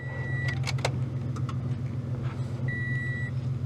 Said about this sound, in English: Let's see what it shows on the gauge when I turn it on.